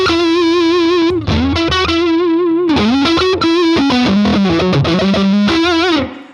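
Electric guitar through a clean amp with a Tone Bone overdrive distortion pedal engaged, playing a short gritty phrase of sustained bent notes with wavering vibrato, ending in a quick fade.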